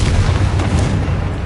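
A Confringo fire spell goes off in the Hogwarts Legacy video game, a dense, loud booming blast that fills the whole moment with rumbling low-end energy and no voices.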